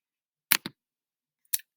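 A deck of playing cards gets shuffled in a quiet room: two quick riffling bursts close together, a pause, then one more short riffle, close and crisp with no talking.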